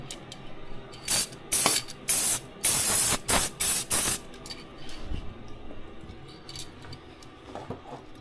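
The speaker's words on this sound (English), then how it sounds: "give the arches a paint with some satin or matte black" Satin black spray paint applied to the wheel arches of a TVR in a series of about seven short, loud aerosol hisses in quick succession, followed by quieter background sounds.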